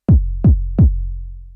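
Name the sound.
bass drum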